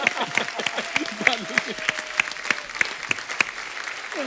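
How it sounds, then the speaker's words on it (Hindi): Studio audience applause on a television comedy show, a dense burst of clapping with a few sharper claps, some cheering and a brief musical tone running through the first half. "जोरदार तालियां हमारे भालू के लिए।"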